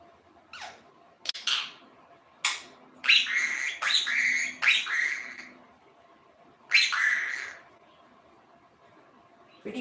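Indian ringneck parrot giving a series of loud, harsh squawks in short bursts with pauses between, close by in a quiet room.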